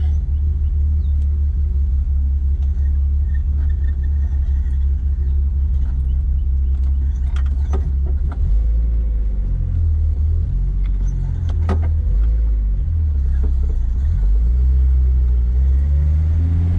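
A loud, cold Datsun 280Z engine idles with a deep, rough rumble, its pitch dipping and surging as the revs shift.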